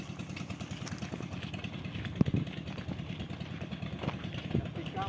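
A diesel-fuelled tin mining machine runs steadily, a loud close engine drone with a rough, clattering idle pulse and a couple of sharper knocks, while a voice talks over it throughout.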